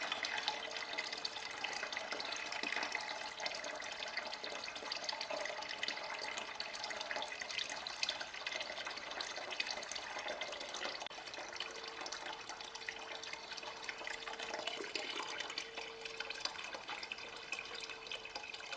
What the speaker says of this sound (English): as you can see, the water is finally coming out clear.